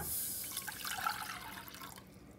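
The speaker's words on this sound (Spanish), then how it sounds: "Voy a poner a hervir el agua." Water poured into a pot to be boiled, a soft continuous splashing pour that is faint and close, with no voices.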